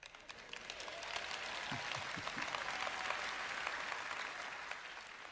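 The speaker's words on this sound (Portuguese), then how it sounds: "Não quero palmas tímidas aqui nesta manhã, eu quero aplausos que glorifiquem a Deus." Congregation applause at a church service led by Joyce Meyer, a soft, somewhat distant spread of many clapping hands that builds gently and holds steady, with a few brief low thumps early on.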